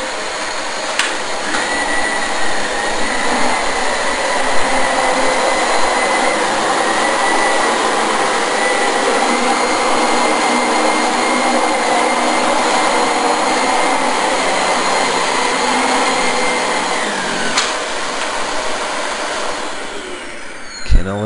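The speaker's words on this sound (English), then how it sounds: "We're going to do the second pass of the Dyson." A Dyson DC25 upright vacuum drones steadily over carpet on a second pass, a loud continuous whine with a high motor tone that holds level and then cuts off near the end.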